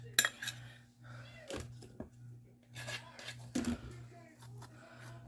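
A waffle being cut in half on a plate, with sparse knife and cutlery clinks and scrapes separated by quiet gaps, close and fairly soft over a low steady hum.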